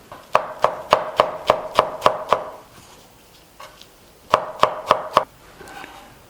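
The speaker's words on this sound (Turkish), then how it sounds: "küçük bir demet maydanozun yapraklarını ayırdım ve küçük küçük doğrayarak" A knife chops parsley rapidly on a cutting board, two bursts of about eight and four crisp evenly spaced strikes, close and clear, with no talking.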